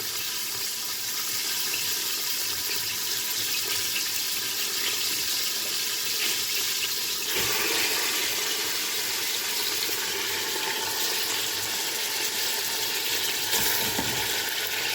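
Water rushes steadily from a kitchen tap while bulgur is washed, a continuous hiss of running, splashing water close by with no talking.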